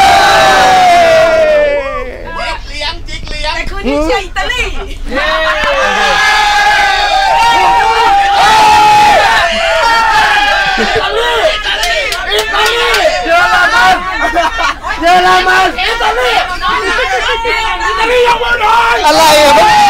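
Large crowd of Thai football fans chanting and cheering together, loud and dense throughout with overlapping shouts and sung chants close by.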